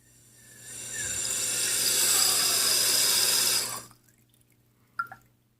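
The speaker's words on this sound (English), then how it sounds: "Now I'm just going to give it a full flush." An early 1960s American Standard front-trap toilet flushes with a loud rushing swell of water that holds for a few seconds, then drops away abruptly to quiet refilling trickles and a couple of small drips.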